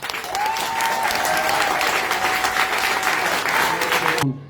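Audience applause for a group of men at a live event, a dense and steady burst of clapping from a crowd that holds at full strength for about four seconds, then stops abruptly.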